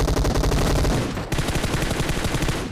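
Loud, close bursts of automatic rifle fire from a battle-royale shooter game, rapid shots rattling on without pause, with one brief break before another sustained volley.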